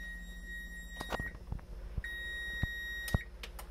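An oven timer beeps while focaccia bread bakes, a few short high electronic beeps and tones spread over a few seconds, fairly quiet and alone.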